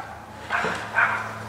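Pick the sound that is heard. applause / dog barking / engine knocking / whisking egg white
dog barking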